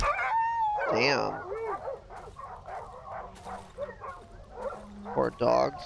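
Dogs howl and bark in the Darkwood video game, opening with a long wavering howl, then scattered yips and whimpers, and ending with a loud close burst of barking.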